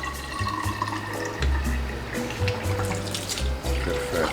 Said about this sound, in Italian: Mettiamo l'acqua calda dentro.